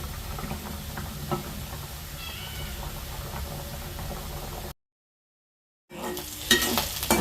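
Curry with milk powder and milk simmering to a boil, a steady close bubbling and sizzling hiss with occasional stirring clatter, broken by a short silent gap before louder stirring resumes.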